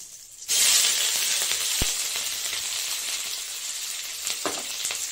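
Cumin seeds, onion and green chilli frying in hot oil, a sudden loud sizzle that starts abruptly and continues steadily with a few stirring clicks, no talking.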